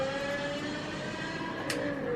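A 500-horsepower V10 engine in a four-door sedan screams steadily toward 8,250 RPM at close range with a sustained whining drone, briefly joined by a short hiss near the end.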